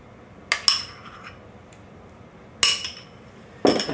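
A metal spoon scoops pawpaw into a bowl while making crema bianca, giving three sharp clinks, a doubled one near the start, another midway and a final one at the end, against a quiet room.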